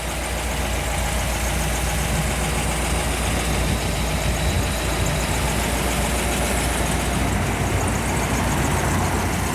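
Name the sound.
1955 Ford Thunderbird original 292 engine running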